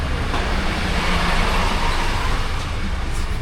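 Dense road traffic with cars and big trucks rumbles steadily and loudly close by, a continuous roar of engines and tyres with no pauses.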